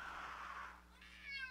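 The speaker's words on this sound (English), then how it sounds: "Sorry about the random cat noises." A cat meows in the room, faint and brief, heard alone over quiet background hum.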